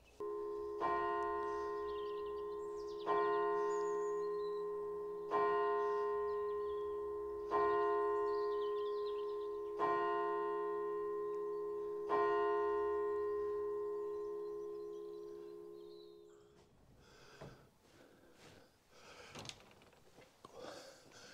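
Eight large church bells ring out in a slow, steady sequence from a church tower in Cranborne, Dorset, each strike ringing and fading, followed by quieter thumps and rustling.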